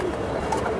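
A pigeon gives a brief low coo, heard close among soft indoor background noise with no talking.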